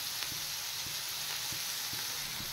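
Chicken pieces frying in a pan, a steady broad sizzle that runs without a break, with a few soft low knocks from stirring. It stays close and at an even level, and no one speaks.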